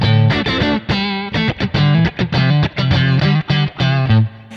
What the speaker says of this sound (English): that to me is the sound of a mic'd up Princeton